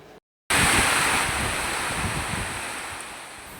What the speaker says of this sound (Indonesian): Hujan deras disertai angin kencang menerjang sejumlah wilayah di Kabupaten Maros, Sulawesi Selatan.